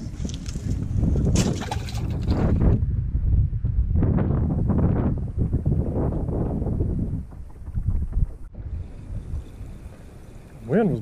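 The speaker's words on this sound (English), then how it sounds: "Wind was blowing me kind of hard" Wind gusts over a lake against a microphone on a fishing boat during a crappie outing, a continuous low rushing roar with brief clatters and splashes, fading somewhat toward the end.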